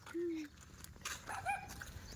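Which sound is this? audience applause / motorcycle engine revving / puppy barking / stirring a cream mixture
puppy barking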